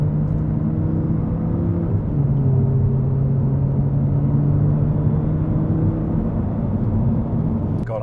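An Audi R8 driving with a very loud exhaust gives a steady, heavy low rumble and drone that holds evenly from start to finish with no voices.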